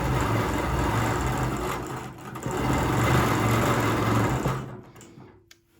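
A sewing machine stitches a straight quilting line with a steady, close, continuous mechanical whir for about four and a half seconds, then stops, leaving near silence.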